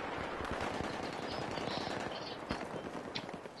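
Gunfire in Battlefield 3, rapid bursts of automatic fire with sharp cracks close by, continuous through the moment and rising to a louder shot at the end.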